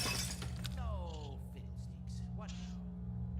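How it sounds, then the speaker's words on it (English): Glass shatters in a sharp, bright burst near the start, followed by scattered tinkling fragments, while someone talks at low level over a steady background hum. "Let me break this glass."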